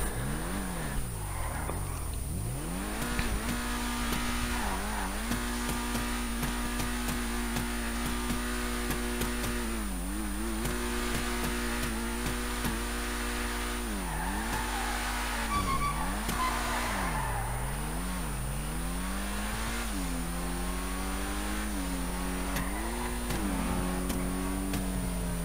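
A car driven in GTA 5 Online, its engine droning continuously and revving up and down through repeated gear changes and accelerations, loud and steady throughout with no talking.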